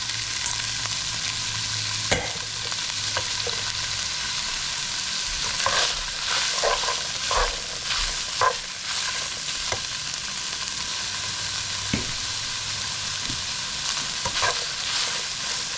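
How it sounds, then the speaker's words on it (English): Black beans go into a sizzling beef taco skillet and are stirred through, a constant close sizzle broken by soft scraping stirs and occasional louder pops. "So I'm going to add some black beans to this."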